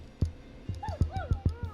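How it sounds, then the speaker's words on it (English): A neighbor's dog in the video game Killer Frequency gives a run of short yips and barks with rising whimpering whines between them, close and fairly loud against a quiet night. "Is that a neighbor's dog?"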